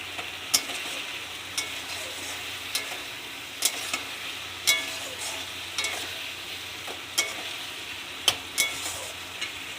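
Turmeric stirred into a frying pan over a soft steady sizzle, with a spoon scraping and tapping the pan about once a second at close range.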